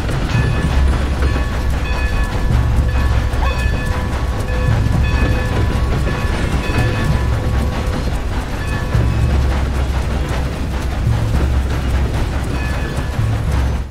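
A train in the video game Red Dead Redemption 2 rumbles steadily and loudly, its heavy low drone pulsing with rhythmic clickety-clack from the cars, and no voices are heard over it.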